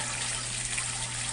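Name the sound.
water pouring over a vortex fountain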